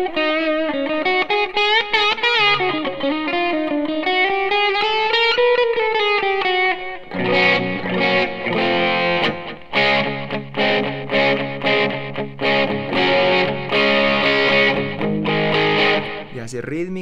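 An electric guitar runs through a Boss DS-2 distortion pedal, first sustained bending lead notes, then choppy, loud distorted rhythm chords played continuously for several seconds.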